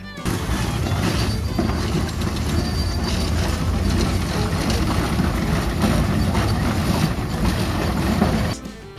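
A steam engine runs at close range as a loud, steady, dense mechanical roar that holds throughout and cuts off abruptly at the end.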